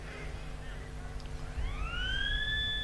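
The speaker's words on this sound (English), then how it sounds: "the siren has sounded" Quarter time siren at an outdoor country football oval during a match between Encounter Bay and Langhorne Creek, a long rising wail that swells from about halfway and holds over crowd murmur and wind.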